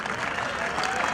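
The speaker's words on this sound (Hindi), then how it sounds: "ताली बजती रहनी, ताली रुकनी नहीं चाहिए, ताली आप बजाते रहिए" Applause from an audience at a state-level polytechnic sports competition ceremony, a brief steady patter of many hands with crowd murmur and a voice talking over it.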